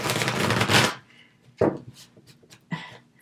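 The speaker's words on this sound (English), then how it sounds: "This is a new deck and the cards are really stiff." A stiff new deck of tarot cards is riffled in a loud burst, followed by a few sharper snaps and taps as the cards are handled.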